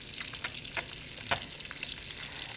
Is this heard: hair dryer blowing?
no